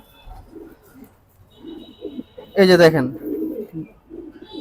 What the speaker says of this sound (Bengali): এটা হলো ঝুমালানির একটা জেলি কবুতর হ্যাঁ নর কবুতর